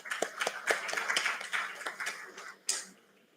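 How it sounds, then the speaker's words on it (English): Students at an engineering orientation programme clap together, a light, fairly faint patter of hands that thins out toward a final louder clap. "A round of applause for them also."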